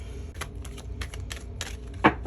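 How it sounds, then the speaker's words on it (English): Oracle cards riffled and shuffled in short bursts, with soft flicking and a sharper snap near the end, close up with no talking. "we are going to go ahead and shuffle the cards"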